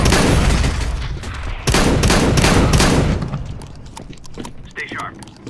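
Repeated sawed-off shotgun blasts fire in a video game, several loud booming shots in quick bursts. Later shots come sparser and fainter, and a voice talks over the gunfire.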